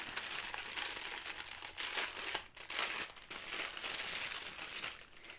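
A plastic bag holding paint-by-number paints crinkles and rustles in close, irregular bursts of handling, with brief pauses between, and no talking.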